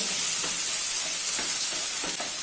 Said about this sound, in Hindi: अभी इसमें 1 चम्मच जिंजर गार्लिक पेस्ट ऐड कर देते हैं और कटे हुए टमाटर ऐड कर देते हैं और मिक्स कर लेते हैं।